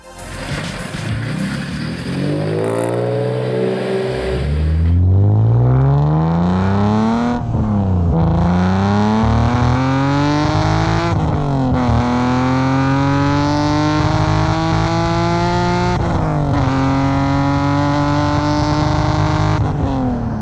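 A BMW E46 M3 fitted with a Supersprint exhaust revs and pulls away, its engine note climbing through repeated loud gear pulls, close and continuous with no talk.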